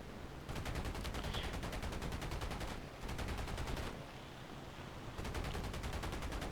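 The P-51D's machine guns fire in War Thunder in three long, steady bursts of rapid shots separated by short pauses, loud and close, with no voices.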